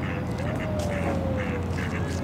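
Ducks quacking repeatedly in short bursts as they gather to be fed cookies and bread, fairly close and continuous over steady outdoor background noise.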